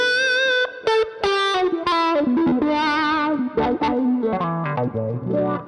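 An electric guitar played through a wah pedal with a custom wah inductor gives a thick, meaty, vocal sweep over a string of distorted notes and bends, loud and close with no talk.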